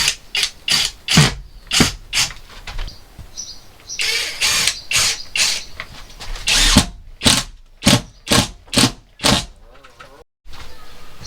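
Power drill driving screws into a plywood wall panel inside a VW Crafter campervan conversion, a run of short whirring bursts in quick succession with a longer grinding stretch in the middle, close and loud.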